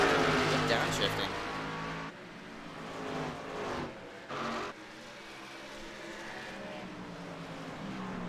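Stock race car engines drone and rev at Richmond in an iRacing sim race, loud at first, then carrying on steadily underneath a commentator's voice.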